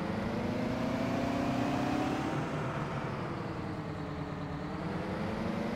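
A vehicle engine in Farming Simulator 17 drones and revs steadily, a smooth mid-loud hum with a slowly rising pitch and no clear crash sounds.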